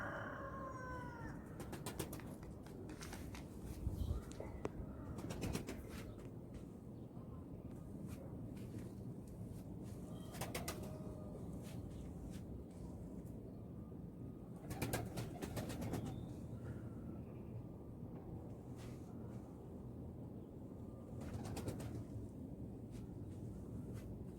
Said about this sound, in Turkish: kuşlarımız uçmaya devam ediyor